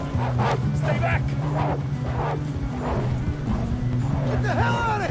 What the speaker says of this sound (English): You got more wolves on the left!